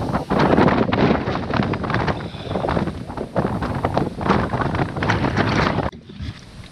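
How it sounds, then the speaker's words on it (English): Strong wind gusts over a choppy Scottish loch, a loud, steady rushing roar that buffets the microphone throughout and drops off sharply near the end. "it is rather windy, and even the loch itself is considerably choppy"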